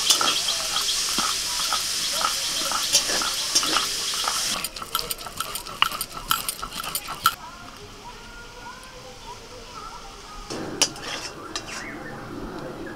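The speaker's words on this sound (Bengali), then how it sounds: "এখন আমি চিংড়ি মাছটা একটু ভেজে নেবো হালকা করে।" Shrimp fry lightly in a little oil in a wok, with clattering of metal utensils, scraping and stirring over a soft sizzle, close up, varying in loudness across the stretch.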